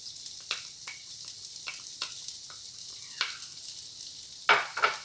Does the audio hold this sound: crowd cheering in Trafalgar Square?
no